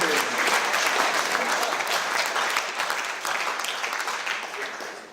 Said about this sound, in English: So big round of applause for Kieran.